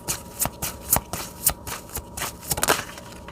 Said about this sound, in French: je vais prendre quelques cartes ici avec l'oracle